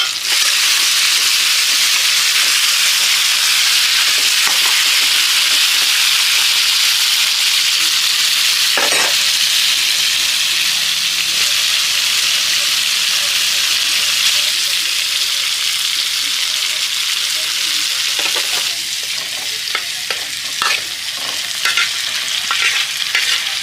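Pork fries with rangalao greens in a pan for a traditional Mising dish, a loud continuous sizzle with stirring scrapes and occasional clatter, steady throughout with faint talk now and then underneath.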